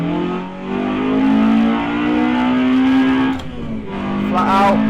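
A race car engine revs hard and climbs in pitch as it pulls out of the pits, loud and close, with a brief throttle dip near the end before rising again.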